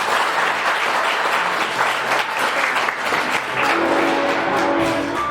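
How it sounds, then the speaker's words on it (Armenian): An audience at an Army Day celebration dinner gives sustained, even clapping that lasts about five seconds, close and full, with a faint tonal sound entering near the end. "Բարձր ծափահարությունները խնդրում եմ։"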